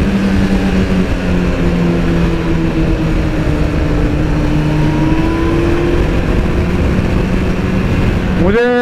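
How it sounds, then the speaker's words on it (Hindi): A Kawasaki Ninja ZX14R motorcycle engine hums steadily while riding at night, a continuous smooth drone with shifting tones under wind rush, ending in a brief rising rev. "ZX14R को हम राइड कर रहे हैं, बिल्कुल निम्बल है,"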